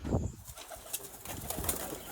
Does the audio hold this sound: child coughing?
no